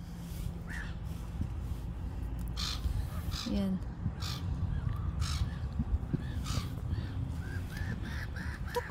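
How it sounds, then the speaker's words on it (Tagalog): Seagulls give loud, repeated harsh cries outdoors in a cold wind, with a burst of calls about every second near the end and a person speaking briefly in between. "Narinig nyo ba ang ingay ng seagull?"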